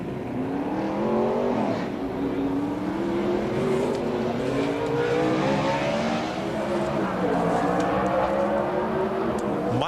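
A NASCAR Busch Series stock car runs a qualifying lap in the 2003 Food City 250, its loud engine roaring steadily and rising and falling in pitch as it goes around the track, with no gaps across the clip.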